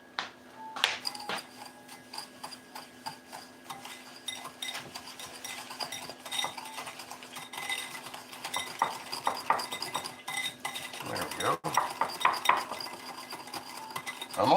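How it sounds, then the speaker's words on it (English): A whisk clinking and scraping in a bowl set over a double boiler while an eggnog mixture is whisked, an irregular metallic rattle close by that grows busier toward the end. "And we're gonna whisk this up."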